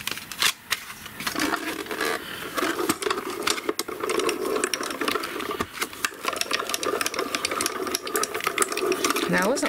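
Small paper die-cutting machine running cardstock through for crafting cards, a close, rhythmic mechanical whirring and crunching that rattles steadily, with a few sharp clicks and a person talking faintly over it.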